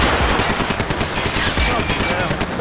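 Gunfire in the video game Max Payne 3 rattles continuously as rapid, loud automatic bursts, dense and close, with voices shouting underneath.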